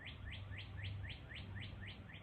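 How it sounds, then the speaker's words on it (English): Small birds chirp outdoors in a repeating series of quick, bright tweets, faint and distant over a low background rumble, with no talking. "I'm doing this outside, so you can probably hear birds, which is peaceful"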